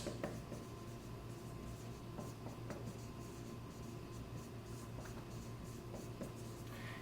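Quiet, steady marker strokes squeak and rub across a board while a diagram of ducts is drawn, with faint taps at stroke starts and a low constant room hum beneath.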